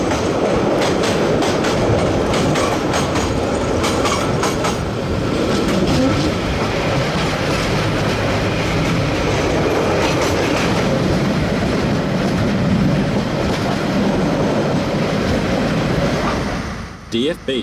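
A diesel-hauled New Zealand heritage train rolls along the rails near the Manawatu Gorge, a loud continuous rumble with clickety-clack wheel beats, passing close before cutting off at the end.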